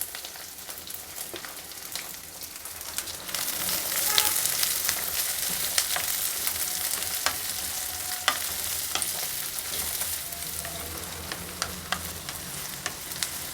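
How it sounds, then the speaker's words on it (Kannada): Onions and green chillies fry in a pan for chitranna, giving a continuous close sizzle that swells partway through, with scattered clicks and scrapes of stirring. "ಈರುಳ್ಳಿ ಮೆಣಸಿನ್ಕಾಯಿ ಎಲ್ಲನೂ ಸಾಕಷ್ಟು ಫ್ರೈ ಆಗಬೇಕು"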